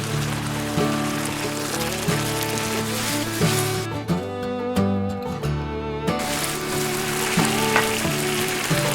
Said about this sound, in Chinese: 用小火煨制10分钟后，我们就转大火勾芡收汁儿